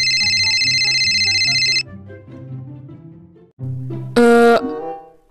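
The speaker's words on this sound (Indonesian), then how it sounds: "Mama telepon berkali-kali kok gak diangkat" A phone ringtone in the video game Sakura School Simulator rings in a bright repeating electronic pattern, then stops, followed by soft game tones and a short sharp chime near the end.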